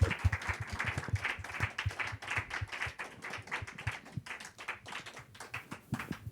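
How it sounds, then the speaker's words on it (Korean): A church congregation claps in rhythm during worship praise, steady clapping with a firm regular beat and a soft musical backing beneath it. "우리 함께 다시 한번 박수로 우리 함께 주님을 찬양합시다."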